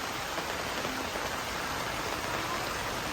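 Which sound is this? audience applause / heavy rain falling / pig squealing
heavy rain falling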